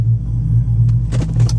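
A car fitted with a 5.7 HEMI engine idles with a deep, steady low rumble close by as it pulls over, with a few brief higher clicks and rustles near the end.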